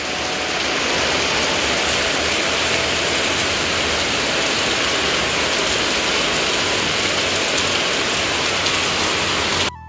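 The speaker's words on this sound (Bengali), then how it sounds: "দেখো খালি এত পরিমাণে বৃষ্টি হচ্ছে।" Heavy rain pours down in a dense, loud, unbroken hiss of drops on surfaces, steady throughout with no voices.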